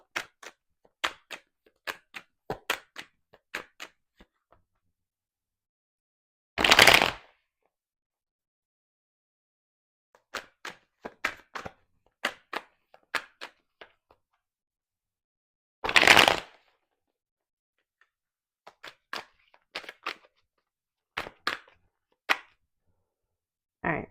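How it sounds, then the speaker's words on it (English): A deck of tarot cards being shuffled by hand: clusters of quick, crisp card flicks and taps, with two louder, longer riffle bursts between them, close and clear against silence. "I'm going to do one more shuffle, cut the deck,"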